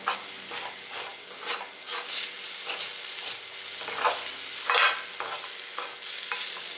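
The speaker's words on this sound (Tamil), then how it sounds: "எல்லாத்தையும் சேர்த்து நல்லா கிளறுங்க." Aval (poha) mixture being stirred in a pan, a spoon scraping in irregular bursts over a soft, steady sizzle, close and moderately loud with no talk.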